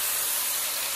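Baby broccoli sautés in a hot pan, producing a loud, continuous hissing sizzle that stays even throughout, with no talk over it.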